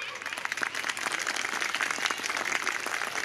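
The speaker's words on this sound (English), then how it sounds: "We need a round of applause." Applause at a school annual day celebration as a chief guest receives a token of respect, fairly quiet and somewhat distant, a scattered crowd clapping unevenly over brief murmuring.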